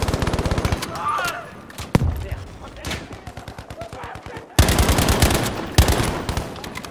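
Gunfire and machine-gun bursts from the Battlefield V video game, with rapid close automatic volleys broken by short pauses and single loud shots, while players talk over the shooting.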